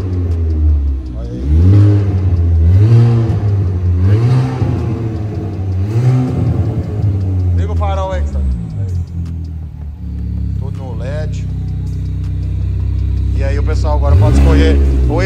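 A reprogrammed car with new wheels and about 9,000 km on it revs and accelerates in loud rising and falling surges that run across the whole stretch, while people talk over the engine.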